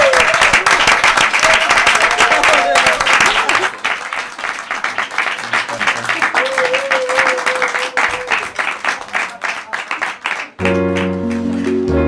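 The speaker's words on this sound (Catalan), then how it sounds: "un fort aplaudiment per tots nosaltres" A loud, dense burst of audience applause at the close of a Catalan podcast, with whoops and a voice over it, easing partway, then a music sting at the end.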